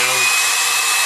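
A heat gun blows steadily on vinyl wrap being formed over a Tisas 1911 pistol, giving a loud, close, continuous airy roar with a brief low hum at the start.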